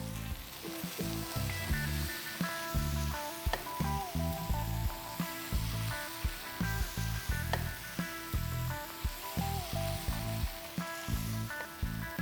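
Mutton fries in a pan with tomatoes and papaya paste for a home-style mutton masala, giving a continuous close sizzle and crackle with a regular pulsing rhythm throughout. No one speaks.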